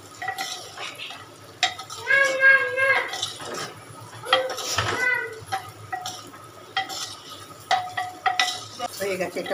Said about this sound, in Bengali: এবার ডিমগুলো একটু হালকা করে ভেজে নেব তেলের মধ্যে নাড়াচাড়া করে।